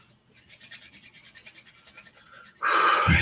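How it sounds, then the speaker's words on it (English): Palms rubbed rapidly together during a guided meditation, making a steady, fast swishing rhythm of close, soft strokes that ends in a louder burst. "Now take our palms and rub them fast together."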